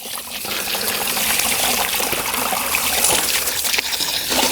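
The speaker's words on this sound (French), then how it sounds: "je vais la nettoyer un petit peu avec de l'eau" A gentle water jet rinses soil from the roots of a plant layering, producing a steady close splashing and trickling spray throughout without a break.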